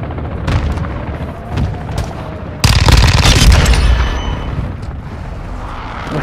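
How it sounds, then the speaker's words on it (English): Hostile airstrike explosions in Call of Duty MW2 erupt as a loud, sudden booming blast that rumbles on and slowly fades over rolling gunfire-like crackle, following a stretch of quieter in-game battle noise. "Hostile airstrike incoming."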